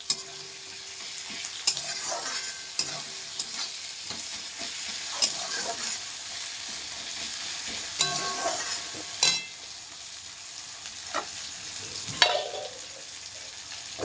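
Spice masala for a chicken curry sautés in a pan, a continuous soft sizzle with irregular spatula scrapes and clinks against the metal, some sharper knocks now and then, heard up close with no voices.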